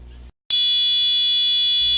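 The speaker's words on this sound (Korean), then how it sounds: "버튼이 눌리면 부저 소리와 함께 비상등이 깜빡이는 경보기를 만들어 보겠습니다" A buzzer on an electronics coding kit, built as a fire alarm, cuts in after a brief silence with a loud, piercing continuous tone that holds steady and close.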